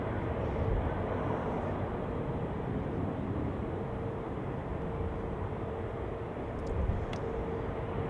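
An airliner rolls and lifts off at Zurich Airport in stormy weather, a steady, broad roar of jet engines held at a constant level throughout, heard from a distance with wind noise.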